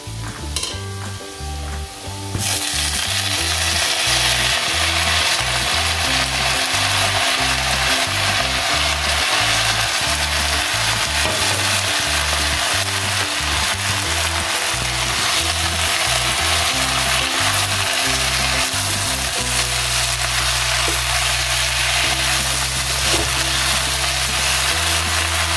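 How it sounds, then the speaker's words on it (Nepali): Siplikan greens frying with potatoes and onions in a pan, a loud, steady sizzle that keeps going throughout, with stirring scrapes and a brief clatter at the start and no talk. "अब मैले सिप्लिगान राखेर मजाले भुट्ने।"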